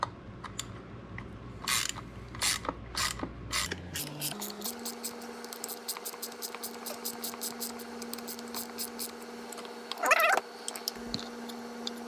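A 1/4 inch drive ratchet tightening an Allen head bolt on a flywheel, with several loose clicks and rattles early on, then a steady run of quick, close ratcheting clicks with a faint hum beneath.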